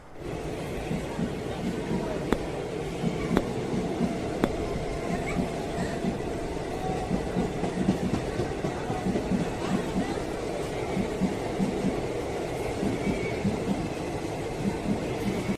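Rumbling train noise with rhythmic clatter of wheels on rails, heard from inside a carriage, with faint voices in the background.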